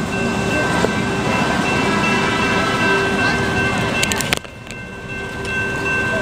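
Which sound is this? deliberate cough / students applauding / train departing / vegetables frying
train departing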